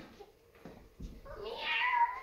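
In a theatre play, an actor imitates a cat with a drawn-out meow that rises and swells at the end, preceded by a few soft knocks and rustles.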